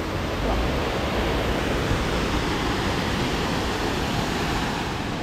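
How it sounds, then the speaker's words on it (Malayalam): A small waterfall near Cheeyappara waterfall in Munnar, heard as a continuous close rush of falling water, steady and loud from start to finish with no voices over it. "അതായത് ചെറിയൊരു വെള്ളച്ചാട്ടം തന്നെയാണ്."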